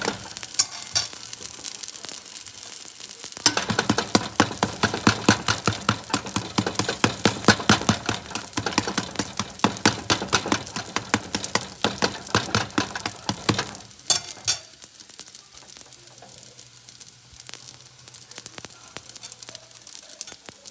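Homemade English muffins sizzle steadily in a hot pan, a dense loud crackling that swells as they are flipped, then settles to a quieter sizzle with a low hum underneath.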